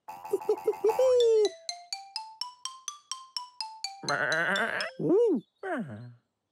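Cartoon sheep bleats, a quick run of short repeated bleats followed by several longer wavering cries, clear and close, with no talking.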